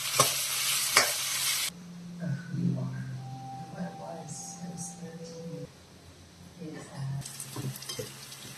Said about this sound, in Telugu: ఆనియన్స్ ఫ్రై అవ్వడానికి కొంచెం సాల్ట్ వేసుకుందామండి.